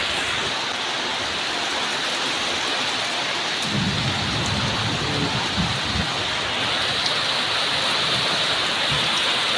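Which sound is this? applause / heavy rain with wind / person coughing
heavy rain with wind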